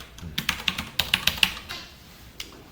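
A short burst of typing on a computer keyboard while writing Java code, about nine quick close keystrokes clicking in an uneven rhythm, then a pause and one last tap.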